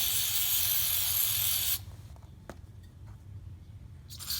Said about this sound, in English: So you want to just take your mass airflow sensor and give it a good spray.